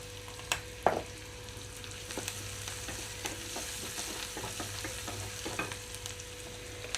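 Onions fry gently in a pan while being stirred, a quiet, steady sizzle broken by a couple of sharp utensil knocks early and soft scraping strokes throughout, with no talk.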